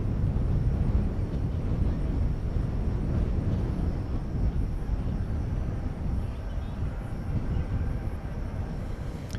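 An American Airlines jet at DFW Airport at night, a loud, continuous low roar of engines that holds steady throughout, close and dominant.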